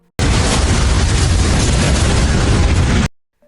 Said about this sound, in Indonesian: peledak di anjungan minyaknya mulai meledak satu persatu